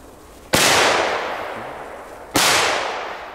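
Two fireworks go off one after another during a night of setting off fireworks in Belgium, each a sharp, loud bang followed by a long fading rumble of echo, about two seconds apart.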